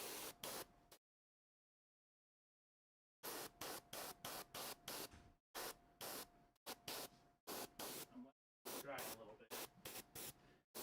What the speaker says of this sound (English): I'm using the airbrush to fast dry it